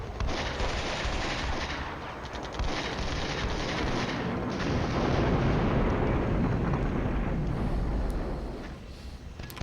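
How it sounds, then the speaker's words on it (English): Mortar fire in the Cold War strategy game Flashpoint Campaigns, a dense, continuous barrage of booming blasts and rumbling gunfire that stays loud throughout, with no voices over it. "there's the mortar going"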